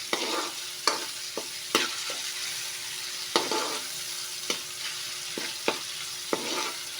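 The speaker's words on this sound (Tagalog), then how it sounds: "Haluin lang natin para kumapit yung paminta sa asin" Pepper and salt being stirred into menudo sizzling in a pan, with a steady frying hiss broken by a series of sharp spoon scrapes and clinks against the cookware.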